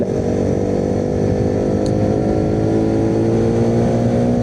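A 200cc NS motorcycle carrying a pillion passenger, its engine droning loud and close at a steady, fairly constant pitch throughout, with wind rush and no talking.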